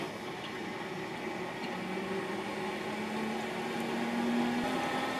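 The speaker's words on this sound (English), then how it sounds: "Then I'll press the on-off button to start the pump." A Grundfos CM centrifugal pump running steadily, a smooth motor hum with a faint whine that slowly rises in pitch, continuous and fairly quiet.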